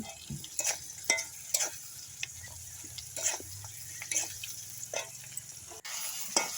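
Onions sizzle and fry in a pan for chicken kosha, with repeated sharp scrapes of a stirring spoon over a steady low crackle, close and fairly quiet.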